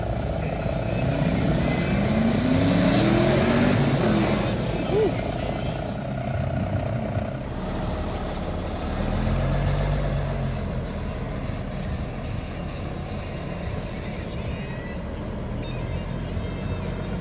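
A naturally aspirated, cammed, built car engine rumbles steadily at a car show, a continuous low idle under people talking nearby.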